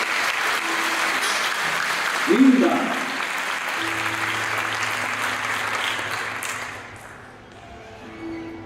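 Audience applause during a Catholic sermon by a priest, a steady crowd clapping throughout under a close voice that speaks briefly, with a short louder burst and a fade toward the end.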